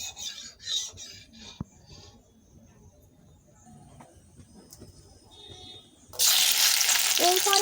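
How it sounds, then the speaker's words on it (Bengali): Okra hits hot oil in a wok with a sudden loud, close sizzle that holds steady to the end, after several seconds of quieter kitchen clatter and light scraping. "এরপরে আমি ঢেঁড়সগুলো তেলের মধ্যে দিয়ে ভালো করে লাল লাল করে ভেজে নেব।"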